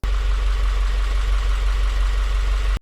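Subaru WRX engine idling steadily after warming up, following a reassembly and install to cure an engine noise; a continuous, close, even drone with a faint rough pulse and no talk.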